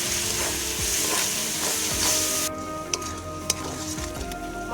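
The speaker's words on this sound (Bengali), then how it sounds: "মশলা কষানো হয়ে গেছে, দিয়ে দিচ্ছি শামুক।" Spice masala of salt, turmeric, cumin and chili powders frying for a snail curry, a dense steady sizzle with occasional scraping stirs; the hiss drops partway through as the pan quiets.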